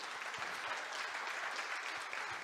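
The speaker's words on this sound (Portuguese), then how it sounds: "Vamos aplaudir o Senhor." Congregation applauding during a church sermon, steady dense clapping from a crowd filling the room, loud and sustained throughout.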